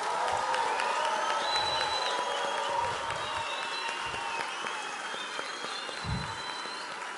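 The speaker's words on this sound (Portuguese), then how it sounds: "Eu gostaria de uma salva de palmas à braveza da ministra." A conference audience at CPAC Brasil 2019 applauds and cheers, a sustained wash of clapping and crowd noise that eases slightly in volume but carries on throughout.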